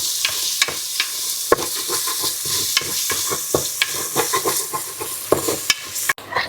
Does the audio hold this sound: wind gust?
no